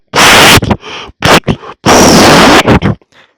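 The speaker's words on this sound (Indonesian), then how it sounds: "seperti tadi kentutnya kembali memberondong" A loud fart sound effect in an Indonesian audio drama comes as a run of harsh, close bursts: two long blasts broken up by shorter sputters and pops.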